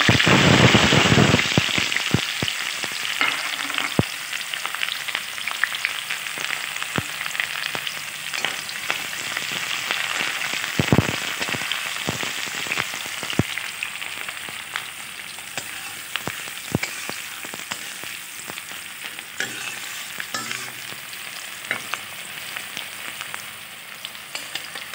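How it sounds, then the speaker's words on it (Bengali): Nigella seeds (kalo jeera) crackle and sizzle in hot oil as the tempering for okra chorchori, a dense, close, continuous frying hiss with scattered sharp pops and occasional utensil taps. "কালি জিরা একটু ফোড়নে দিয়ে দেব"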